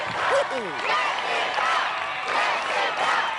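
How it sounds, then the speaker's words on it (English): An American Ninja Warrior crowd cheering and chanting for a female competitor on the ring turn obstacle, rhythmic rising shouts with a whoop near the start, loud and dense, mixed with excited announcer talk. "The crowd chanting her name"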